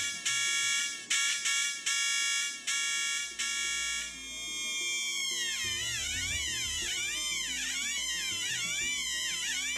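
Two blended electronic oscillator circuits on a breadboard give bright buzzing tones, first a few clipped beeps and then a continuous warbling, sweeping whine with wavering beat notes, fairly faint and alone.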